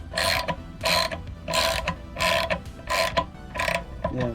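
Ratcheting clicks from a wrench tightening down the bolts on a Driven Racing halo fuel cap, coming in about seven even bursts roughly half a second apart, close and fairly loud, with no voice.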